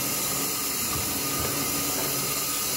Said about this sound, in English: We are using wood to generate the steam